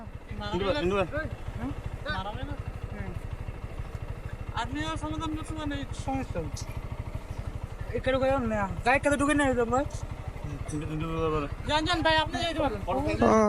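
Vehicles idle in a dense traffic jam on the Cox's Bazar–Chittagong highway, a low, steady engine rumble running beneath people talking nearly the whole time.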